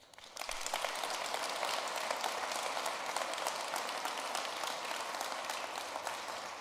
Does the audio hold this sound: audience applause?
yes